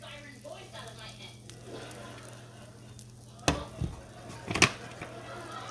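Butter melting in a pan for a roux sizzles softly and steadily, with a low background hum and a few sharp clinks and bumps near the end.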